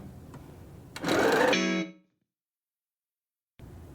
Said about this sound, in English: I'm going to start by sewing 1/4 inch there